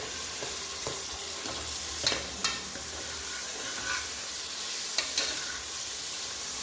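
Chopped tomatoes fry in a pan for stem-greens sambar, with a steady low sizzle and occasional scrapes and taps of the stirring spoon, quiet and close.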